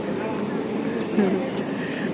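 A crowded metro train running at night toward Central station gives a steady low rumble and hum heard from inside the carriage, continuous and even, with faint murmuring voices underneath.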